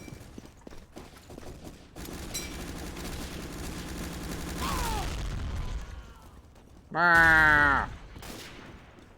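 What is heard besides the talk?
gunfire from bots in a Source engine video game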